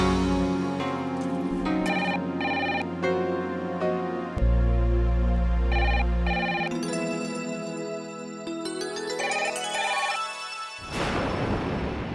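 A telephone rings in a home, its ringtone sounding as a repeating electronic melody over a steady low drone, loud and close, with no talk.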